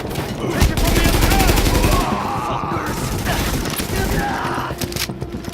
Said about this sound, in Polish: do nich nie celuję, tylko strzelam z biodra